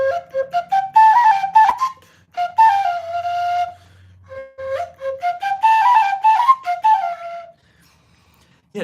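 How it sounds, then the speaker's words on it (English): A tin whistle plays a lively melody alone, in two bright phrases of quick ornamented notes separated by a short pause. "It's called a tin whistle."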